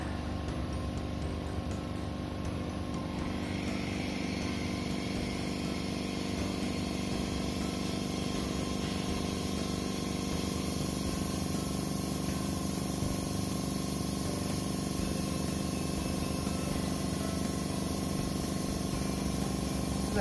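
A laboratory vacuum filtration machine running steadily as coffee solution is filtered, a constant close hissing, humming drone that holds without change, with no talking.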